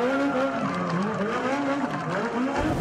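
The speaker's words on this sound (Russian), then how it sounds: "а вот выписывает пируэты на автомобиле" A car skids through pirouettes, its tires squealing in wavering, sweeping tones over a steady engine roar. The sound stays loud and continuous throughout.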